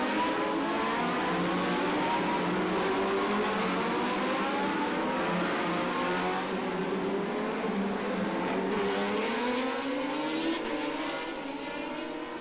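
Racing motorcycles tearing up San Francisco Hill on the warm-up lap of the 2023 Macau Motorcycle Grand Prix, engines screaming with rising and falling revs as several bikes pass in close succession, loud and unbroken.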